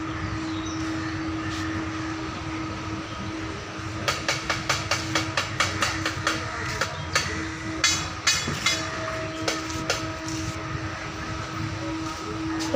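A train approaching a Kolkata railway station beside the Hooghly, a continuous low rumble overlaid by a quick run of rhythmic clicks and clatters as the cars pass close by.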